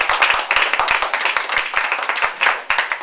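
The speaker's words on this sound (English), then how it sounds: "I think that he deserves a round of applause." An audience applauds a panelist at a think-tank panel discussion: dense, steady clapping from many hands, fairly close and loud, lasting the full few seconds with no talk over it.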